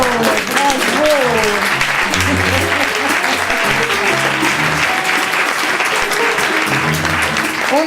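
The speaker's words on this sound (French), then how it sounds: "On applaudit." An audience at an evening talk on the origins of consciousness claps in loud, continuous applause, with someone speaking over it throughout.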